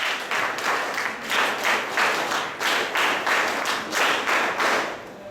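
Audience applause welcoming a guest at the closing ceremony of an alcohol de-addiction camp, steady dense clapping from a crowd with rhythmic swells, loud and close, no talk over it.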